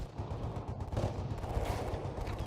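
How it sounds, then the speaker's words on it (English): Muffled bursts of gunfire crackle and thud in rapid succession, sounding somewhat distant and dull, as if heard from inside a building. "gunfire suddenly erupted from outside"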